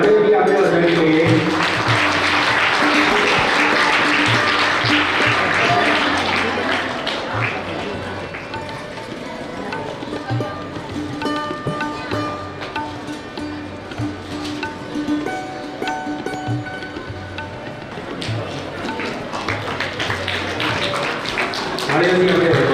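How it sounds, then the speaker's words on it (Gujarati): Audience applause at a primary school farewell ceremony for a retiring headmistress, a sustained wash of many hands clapping that swells loudly at the start, thins in the middle and builds again toward the end, with voices mixed in. "સન્માન કરીને તાળીઓથી આપણે વધાવી દઈએ"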